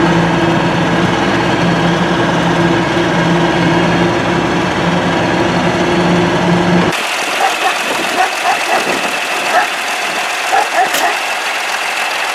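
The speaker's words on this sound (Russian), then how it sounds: "Вот такая у нас поездка на Т-150К." A T-150K tractor engine runs loudly and steadily during a ride, a heavy droning diesel hum that changes abruptly to a rougher, rattling sound partway through, with a voice heard faintly at times.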